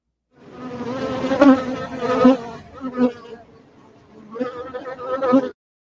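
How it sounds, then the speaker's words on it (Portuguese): A fly buzzes in flight, a loud, close droning hum that rises and falls in three waves with short dips between them before cutting off. "é som de mosca voando"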